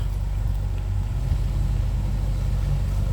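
CAT 313B CR excavator scooping a full bucket of weeds from a canal, a steady low diesel engine rumble throughout with slight load variation, fairly close and continuous.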